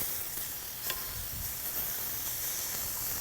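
Seasoned steaks sear on a fireside grill just after being flipped, giving a steady, close sizzle and hiss with a brief brighter crackle near the start and no talking.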